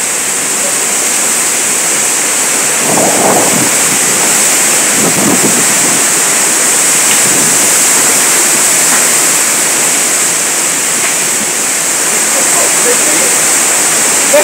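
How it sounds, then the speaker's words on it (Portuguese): Strong, steady wind roars across the whole clip, a broad rushing noise buffeting the microphone, with brief faint voices partway through. "Olha que vento!"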